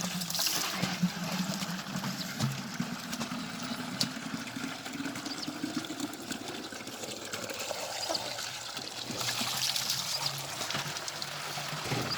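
A thin stream of water trickling steadily from a pipe, a constant soft splashing flow with no voices.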